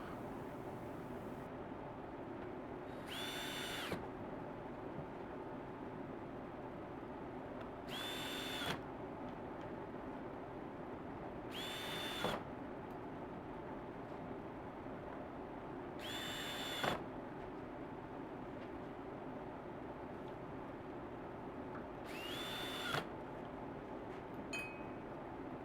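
Power drill driving screws into a 2017 Ford Expedition door armrest, five short whirring bursts evenly spaced over a steady low background hum, close and clear, with no talking.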